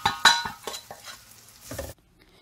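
Fried onions being stirred with chili powder, turmeric and crushed chili for Sri Lankan seeni sambal, a few scraping spoon strokes over a light sizzle before falling quiet.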